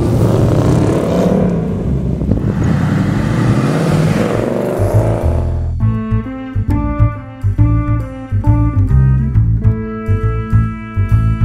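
A Ford Mustang Bullitt Edition driving on a street, its engine a loud, steady rumbling roar that shifts partway through into a rhythmic, pulsing drone with clear repeated engine notes.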